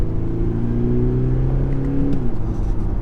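A 2021 Audi SQ5 diesel accelerating hard, its engine droning at low revs with a steady rising tone, then a quick gearshift drop near the end, heard from inside the cabin.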